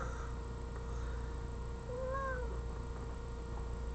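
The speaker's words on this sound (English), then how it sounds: "Here comes the cat, so hang on." A domestic cat gives a single short meow partway through, fairly faint, over a steady indoor background hum.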